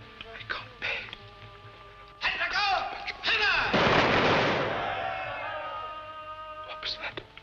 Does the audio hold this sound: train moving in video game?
no